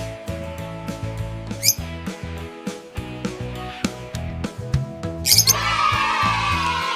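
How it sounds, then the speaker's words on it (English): A lovebird chirps and squawks in quick repeated bursts, sharp and close, over a bouncy musical backing, ending in a brighter rush of noise. "Lovebird. Chirp, chirp."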